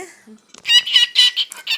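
Pet birds chirping at close range in a quick run of bright, repeated calls lasting under two seconds.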